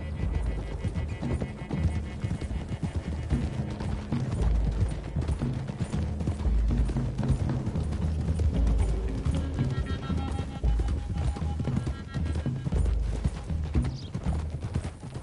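Horses gallop in Red Dead Redemption 2, their steady clip-clop hoofbeats running continuously and fairly loud, with a mechanical rattle and an occasional whinny mixed in and little talk.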